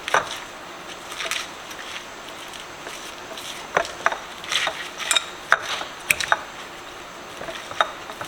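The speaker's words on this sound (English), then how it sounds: "I'm gonna use my fork to mush that down a little bit to" A fork mashing chopped baby spinach in a bowl while making stuffed chicken breast, giving soft, irregular squishy taps and scrapes up close, with sharper clicks toward the end.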